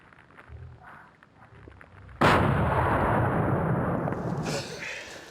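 A hunting rifle fires one loud, close shot during a deer hunt. The blast cuts sharply into a quiet outdoor scene and rings out in a long, rolling echo.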